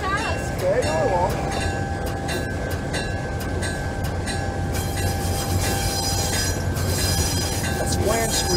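A Rapido HO scale U25B model diesel locomotive runs along the track with its bell sounding, wheels clattering and squealing steadily under people talking nearby.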